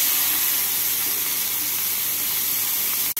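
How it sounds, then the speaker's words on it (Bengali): Chopped onions fry in hot oil tempered with green chilies and nigella seeds for a tangra fish curry, producing a loud, steady, close sizzle that runs unbroken apart from a brief dropout near the end. "এর মধ্যে এবারে কেটে রাখা পেঁয়াজগুলোকে দিয়ে দেব"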